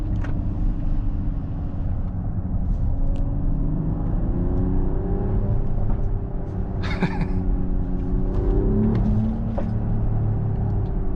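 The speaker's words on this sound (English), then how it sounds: "because who doesn't like exhaust pops? We all love it" Exhaust pops and bangs from a 2026 Mercedes-AMG GLE 53 Hybrid family SUV, a few short crackles over a steady, loud engine rumble and road drone while driving.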